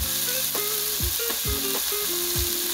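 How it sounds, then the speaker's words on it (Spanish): Chopped tomato, onion, chile, garlic and pepper sauté in a pan of very hot oil, giving a loud steady sizzle close by, with no one speaking. "le vamos a un sartén con aceite muy caliente y lo vamos a sofreír."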